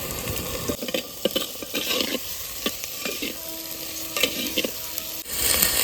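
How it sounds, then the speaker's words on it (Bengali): Kashmiri aloo dum spices are sautéed with a bay leaf in a pan, loud continuous frying sizzle under repeated stirring scrapes and clatters, with a sharp burst of hissing near the end. "এবার ভালো করে কষিয়ে নেব তেজপাতাটা দিয়ে দিচ্ছি"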